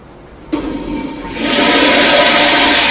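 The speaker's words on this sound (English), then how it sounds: "when you flush them or turn on one of the sinks, the pipes rattle" A bathroom toilet flushes, with the rush of water starting abruptly and swelling into a loud, steady roar that lasts to the end, and with pipes said to rattle when flushed.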